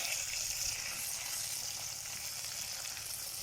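Onions fry in a hot pan with a steady, hissing sizzle, close and even throughout, no voices over it.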